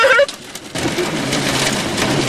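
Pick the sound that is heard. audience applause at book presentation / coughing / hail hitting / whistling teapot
hail hitting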